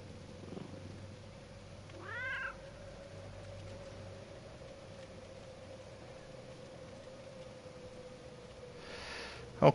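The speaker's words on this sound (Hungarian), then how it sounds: "Jött egy cica." A cat's meow arrives in a single short rising-falling call from a moderate distance, set against a steady low hum and background noise during Dead by Daylight gameplay.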